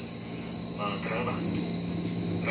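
A commuter train at Matraman station rumbles under a constant high-pitched whine, a continuous moderately loud rail noise.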